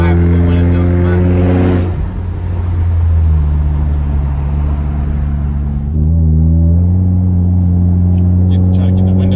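A Ford Mustang EcoBoost running on methanol, with no mufflers, no resonator and a catted downpipe, revs up loudly, drops briefly, then climbs again in a strong droning tone. Voices speak faintly underneath.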